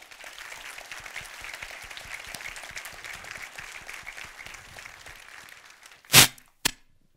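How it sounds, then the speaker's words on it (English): A conference audience at code::dive 2019 claps in moderate, even applause for several seconds as it fades, followed by two sharp, loud cracks close to the microphone. "Please give him a round of applause."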